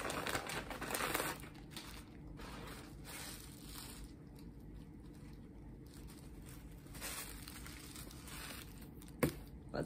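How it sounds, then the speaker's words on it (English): A plastic Ziploc bag for a blonde bob wig crinkles and rustles close up as someone struggles to open it with a broken zipper, with a louder crumpling burst at the start and a sharp snap near the end. "I can't get it open. Okay, so the Ziploc thing broke on this."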